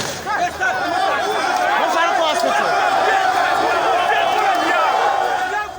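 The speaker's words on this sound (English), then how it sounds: "Opposition party supporters in a heated confrontation and the security officials in the thick of a melee." Heated election-day confrontation between opposition party supporters and security officials in Ghana, a dense, loud crowd clamor of overlapping shouting voices and chatter sustained throughout, with agitated yells rising over the hubbub.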